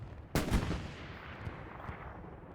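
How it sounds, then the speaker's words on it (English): A Greyhound armored car in Hell Let Loose fires its gun at long range, with one sharp boom followed by a rumbling decay, then faint scattered battle noise trailing off. "Long range shooting. Peppering with all his Greyhound ammo"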